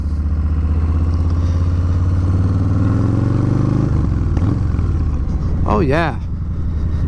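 A Harley-Davidson Softail Slim with the 107 cubic-inch, 1760 cc engine runs with a deep, loud, steady rumble that cuts off abruptly, followed by a brief whistle-like sound; someone talks over it.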